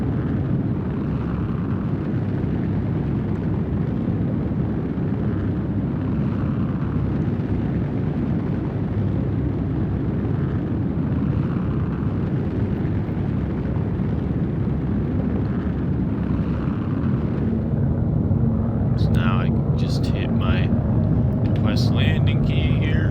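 A MISC Hull A spaceship flies through atmosphere in Star Citizen, a steady, heavy low roar of engines and rushing air droning continuously, with faint voice-like sounds near the end.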